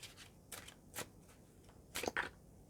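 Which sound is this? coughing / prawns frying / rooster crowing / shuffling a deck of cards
shuffling a deck of cards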